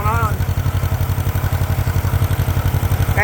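A tractor engine pulling a 14-bottom plow at a farm plowing day chugs steadily with a fast, even low-pitched pulse, loud and close, with a brief voice at the start and end.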